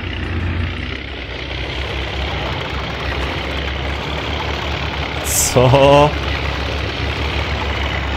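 A Volvo truck engine idling in the off-road driving game Spintires MudRunner, a steady low rumble throughout, with a short burst of louder noise and a voice speaking briefly near the middle.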